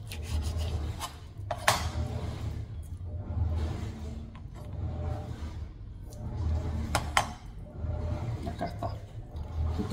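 A knife slices fat from a raw chicken breast on a cutting board, giving soft repeated rubbing and rasping strokes with a few sharper scrapes, close up and steady, with no talk.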